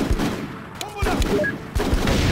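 Gunfire in Full Spectrum Warrior: Ten Hammers pops in several loud, close bursts of rifle shots with booming impacts, mixed with shouted soldier voices.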